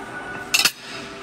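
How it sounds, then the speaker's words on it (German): A quick burst of bright clinking, like cutlery knocking against a plate, two or three close taps and then quiet room tone. "Was passiert denn jetzt? Besteck und Teller?"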